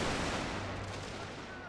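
Soldiers fire guns in a war video game set in Russia, a dense, continuous rattle of distant gunfire that blurs into a steady crackle with no single shot standing out.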